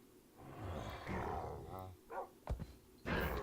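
Minecraft wolves growl and snarl in short bursts, a rough rumbling growl followed by a few sharp barks and yelps that come close and loud, with game noise mixed in.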